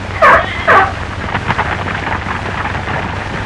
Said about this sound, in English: Zebras in zoos over here rarely make any kind of a sound, but this shrill bark is common both day and night in Africa.